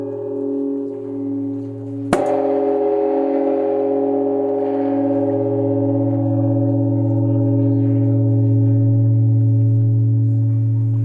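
A large bronze bell at Bongjeongsa, a Buddhist temple, is struck once at dawn and rings out with a deep, sustained hum that lingers loudly and slowly swells for many seconds.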